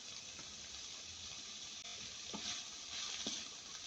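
Sliced capsicum hitting a hot pan, a faint steady sizzle and hiss of frying with a few soft stirring clicks, close and quiet with no talking.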